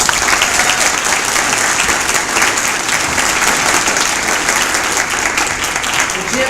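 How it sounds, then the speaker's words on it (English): A crowd at an award ceremony gives Jim a round of applause, a dense and loud burst of clapping that holds steady from start to finish, close and full, with no speech over it. "So I want to give Jim another round of applause."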